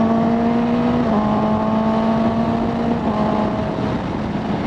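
A Suzuki GSX-S750Z motorcycle fitted with a Translogic quickshifter holds a loud, steady engine drone, with quick gear shifts showing as short dips in pitch.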